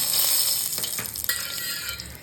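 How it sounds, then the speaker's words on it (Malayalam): Mustard seeds crackle and pop in hot coconut oil, a busy sizzle with scattered sharp bursts, close and fairly loud, no voices. "വെളിച്ചെണ്ണ ചൂടാവട്ടെ കടുക് കടുക് പൊട്ടട്ടെ"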